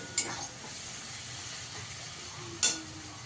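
Onion paste frying in a pan for masala chicken, a low steady sizzle with two sharp scraping stirs of the spoon, close by and fairly quiet.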